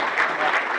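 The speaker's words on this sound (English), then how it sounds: "let's give them a round of applause" Brief burst of clapping from a crowd at a hackathon kickoff, steady and dense throughout.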